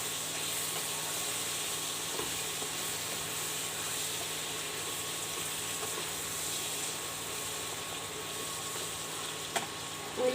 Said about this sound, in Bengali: লবণ, দিয়ে এবার আমি ভালো করে এটা নাড়াচাড়া করে নেব।